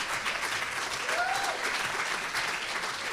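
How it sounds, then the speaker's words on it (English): Audience applause at a university book launch at Nelson Mandela University: a dense, steady wash of many hands clapping, loud and continuous for the whole stretch with no talk over it. "Please give ourselves a nice round of applause."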